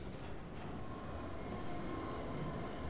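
A train rumbles past in Half-Life 2, a continuous heavy low roar with rattling and a faint metallic squeal, steady and close throughout.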